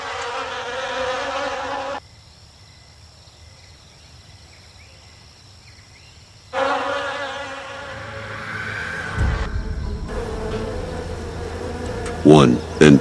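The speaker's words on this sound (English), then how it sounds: "From a wasp nest hanging between the branches, the silhouettes of predators begin to move." A swarm of wasps from a nest in forest branches buzzes in bursts, a dense whining drone that cuts off into near silence and then returns louder, with rustling and bird calls near the end.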